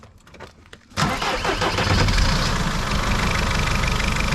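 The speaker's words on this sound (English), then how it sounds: "Go and start her up, Chris, and listen how sweet this engine is." A high-mileage Mercedes Sprinter van engine cranks briefly, catches and settles into a loud, steady diesel idle that runs on without a break.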